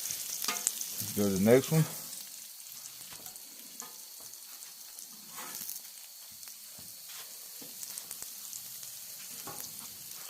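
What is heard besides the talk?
wild pork and deer smash burgers sizzling on griddle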